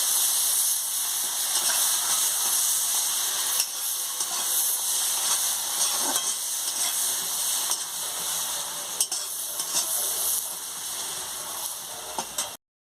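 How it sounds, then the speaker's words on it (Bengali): Chopped onion sizzles and crackles steadily in hot oil in a pan while cooking prawn malai curry, a close, even frying hiss with small pops throughout. "পেঁয়াজ কুচিটা দিয়ে ভালো করে ভেজে নিচ্ছি।"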